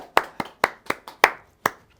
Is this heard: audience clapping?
yes